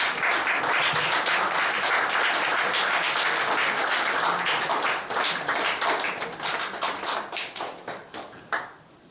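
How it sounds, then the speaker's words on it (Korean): A church youth service congregation applauds to welcome a new member, loud sustained clapping that fills the room, then thins to scattered individual claps before dying away. "우리 함께 박수로 한번 환영할까요?"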